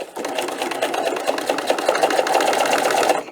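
A sewing machine runs continuously at a brisk, even rhythm, top stitching with thick bonded polyester thread an eighth of an inch from the edge of a fabric strap, close and loud for a few seconds with no talk.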